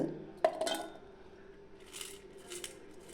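Small onions and garlic cloves drop into a mixie jar for raw spicy chutney: a few sharp clinks and taps close by in the first second, then quiet kitchen room tone with faint rustles.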